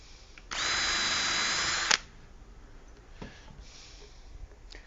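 A power drill bores into hard plywood, one loud, close, continuous whine lasting about a second and a half that ends in a sharp burst, followed by faint handling clicks and quiet room noise.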